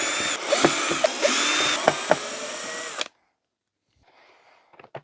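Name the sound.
power drill removing vacuum cleaner lower cover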